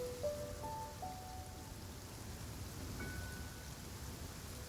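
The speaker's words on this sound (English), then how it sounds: "I love listening to the rain from the courtyard" Rain falls in a courtyard in the video game Genshin Impact, a soft continuous hiss of drops, with a few brief tonal chimes drifting over it.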